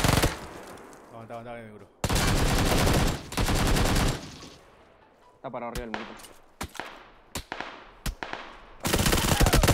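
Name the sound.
gunshots in a video game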